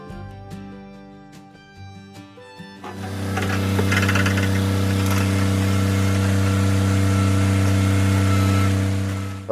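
Grab lorry engine starting up after some tapping and clunks, then settling into a loud, steady diesel run with a constant drone to the end.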